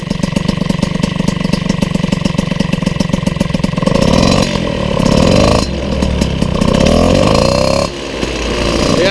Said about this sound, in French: je profite qu'elle soit à l'arrêt, démarrée pour vous faire écouter le bruit du moteur